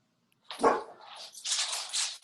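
A single dog bark rings out close by, followed by a stretch of broad, hissy noise at a similar level, in a busy, crowded setting.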